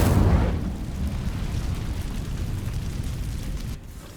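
A fiery whoosh and burst as the Incendio spell ignites dry vines in Hogwarts Legacy, loud at onset then settling into a sustained rumbling crackle of flames that fades near the end.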